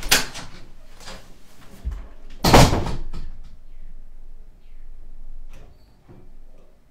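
A room door is opened and closed during a live stream, with one sharp, loud bang in the middle and softer handling clicks and rattles around it.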